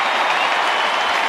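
A football crowd roars and applauds as Fremantle kick a goal against St Kilda in an AFL match, a broad sustained wash of cheering and clapping from a large stadium audience.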